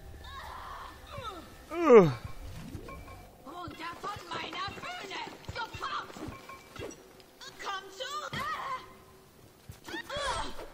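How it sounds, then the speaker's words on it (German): Splicer enemies in the video game Bioshock let out loud, wavering screams and shrieks, one sharp piercing cry early then several choppy yelling bursts, with a person briefly talking over the game sound. "Oh, hier schreit er schon wieder eine."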